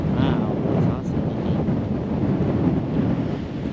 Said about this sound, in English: It is quite windy today.